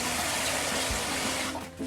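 Water pours steadily into a pan in a home kitchen, a loud continuous rushing stream that runs for nearly two seconds before tapering off, with no talk.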